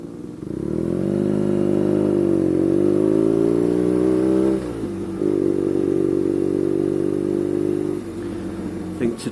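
A BMW R9T motorcycle engine drones loudly and steadily while riding on a road, rising in pitch under acceleration, dipping briefly mid-way, then settling again before easing off near the end.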